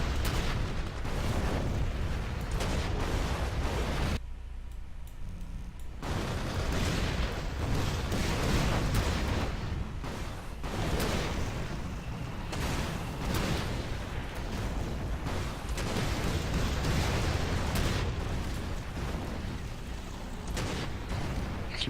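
Mortar fire and explosions in the Rise of the Reds strategy game, a dense run of booms and bursts with a brief lull early on, steady and moderately loud with no speech.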